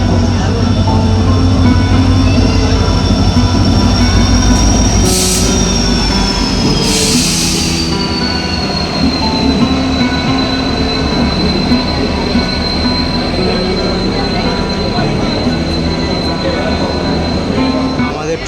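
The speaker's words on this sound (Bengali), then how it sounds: "এই মুহূর্তে হাওড়া জংশন রেলওয়ে স্টেশনের 22 নম্বর প্ল্যাটফর্মে এসে প্রবেশ করছে।" Howrah–Puri Superfast Express (12837) pulling into platform 22 at Howrah Junction, a loud steady rumble of wheels and carriages with a sustained high wheel squeal and two brief bursts of hiss around the middle, continuing throughout.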